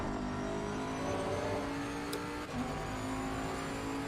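Engine of an old Bentley race car in a racing video game, a steady loud droning rev held throughout with a slight dip near the middle, no talking.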